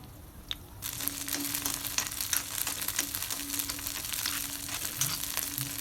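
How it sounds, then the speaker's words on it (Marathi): Green chillies sizzle and crackle steadily in hot oil in a pan, a close, continuous frying hiss with scattered pops and light stirring scrapes. "मिरच्या चांगल्या अशा फ्राय झाल्या तर"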